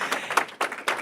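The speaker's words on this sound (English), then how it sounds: "The round of applause, please, ladies and gentlemen." A conference audience gives a brief burst of clapping, with several uneven claps close together over about one second.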